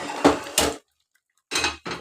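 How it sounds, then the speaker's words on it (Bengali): A heavy, large wok is handled and set down, giving loud close metallic clatters and scrapes in two bursts separated by a brief silence. "এত ভারী বড় কড়াই,"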